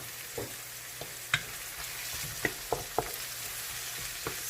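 Garlic and onions frying in a pan for a tomato pasta sauce, a steady soft sizzle with a few sharp clicks of a utensil stirring, close and moderately quiet, with no voices.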